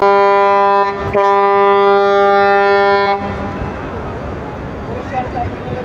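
A loud, sustained horn blast from the new four-storey luxury passenger launch M Khan-7 as it arrives at Barisal ghat, lasting about three seconds, followed by riverside ambience with voices talking.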